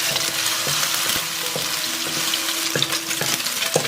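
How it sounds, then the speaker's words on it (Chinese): Garlic and century egg frying in hot oil in a wok, a steady loud sizzle broken by several sharp clinks and scrapes of a spatula against the pan. "起锅热油，把蒜跟皮蛋放进来煎香。"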